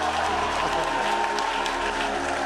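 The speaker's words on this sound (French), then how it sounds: "On acclame très fort le Seigneur" A church congregation applauds and cheers for the Lord in a steady, dense wash of clapping that fills the space without a break.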